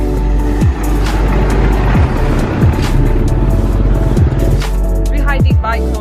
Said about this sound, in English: You have the cars coming down here like this.